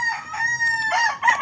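A young rooster stag crows loudly and close by, a drawn-out, strained call with a brief break before a final rising burst, heard on its own.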